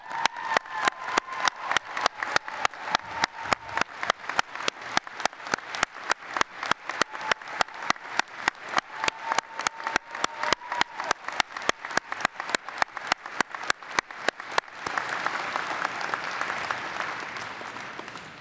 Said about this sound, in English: let us give you a round of applause to these wonderful graduates once more